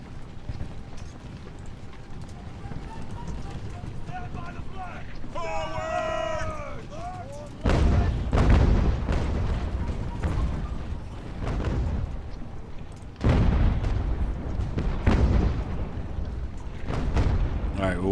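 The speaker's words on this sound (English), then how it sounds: "Let's start shelling them." Artillery shelling from the video game Ultimate Admiral: Age of Sail: heavy booming volleys hit in loud bursts over a steady battlefield rumble, with a voice speaking partway through.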